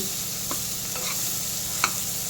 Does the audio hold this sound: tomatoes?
yes